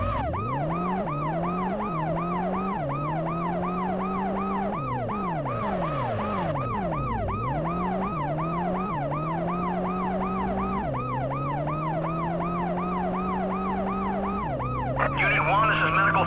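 Ambulance siren in the police-chase video game World's Scariest Police Chases, a loud continuous wail rising and falling in steady cycles, shifting to a faster yelp pattern partway through and holding close for the whole stretch.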